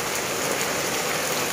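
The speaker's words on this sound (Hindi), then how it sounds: "तो बारिश काफ़ी अच्छी हो रही है।" Heavy rain pours down in a steady, loud, even hiss of countless drops striking surfaces, unbroken throughout with no voices over it.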